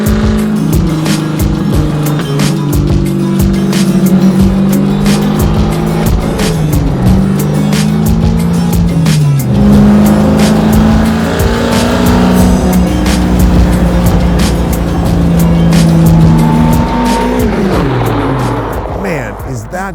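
A 1,000 hp Plymouth Cuda restomod with a Hellephant engine drives hard and loud, its thundering engine rising and falling through the gears and revving steadily the whole time, with brief talk heard over the noise.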